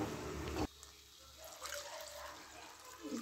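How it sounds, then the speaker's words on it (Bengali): Water is poured into a pot of spiced moong dal khichdi, a short splashing trickle following a brief louder burst, fairly close and with no talk. "কষা হয়ে গেছে, এবার আমি জল ঢেলে দেবো"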